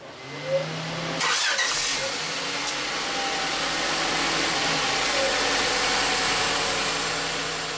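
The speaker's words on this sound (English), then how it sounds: "We're going to start the vehicle and we're going to let it run 3 minutes" A 1997 Honda Accord 2.2L engine cranks and catches, then settles into a steady, close idle that drones on without a break and with no talk over it.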